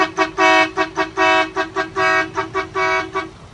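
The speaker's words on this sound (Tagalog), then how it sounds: "pa sound check nga kami yung air horn natin plus module." Loud, close blasts of a dual-trumpet air horn with a two-tone sound, a series of short toots and longer honks in an uneven pattern.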